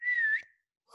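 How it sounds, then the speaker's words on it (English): A young girl gives a short, clear whistle of one wavering tone lasting under half a second, close and fairly soft, followed by quiet. "She can whistle."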